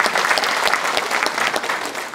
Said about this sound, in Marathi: त्यासाठी आपण पुन्हा एकदा सरांसाठी टाळ्या वाजवू